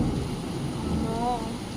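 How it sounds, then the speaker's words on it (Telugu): Heavy rain pours steadily during a storm with strong wind, a continuous broadband wash that stays loud and even throughout, with a brief faint tonal whine near the end. "వర్షం అయితే అసలు ఘోరంగా వస్తుంది"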